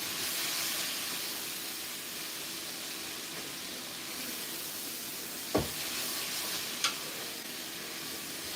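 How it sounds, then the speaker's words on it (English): Onions and cabbage cooking down in a pan give a steady, broad sizzling hiss throughout, fairly loud and close, with two brief sharp clinks partway through. "I have onions and cabbage over there getting all nice and jammy."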